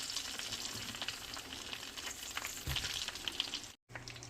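Sliced whole garlic cloves frying in a pan, soft crackling sizzle with scraping stirs and occasional clinks, fairly quiet and close, with a brief dropout near the end.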